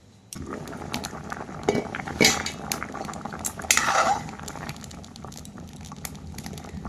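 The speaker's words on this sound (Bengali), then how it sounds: "কড়াইতে আলু সেদ্ধ বসিয়ে দিয়েছি" Potatoes boil in water in a wok: a steady, close bubbling hiss with occasional clinks and knocks from metal utensils and pans.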